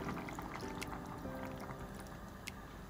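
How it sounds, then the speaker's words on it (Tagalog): Water poured into a cooking pot, apparently for salmon paksiw, making a steady continuous splashing gush that runs through the whole stretch, close and moderately loud, with no talking over it. "Lagay natin itong tubig."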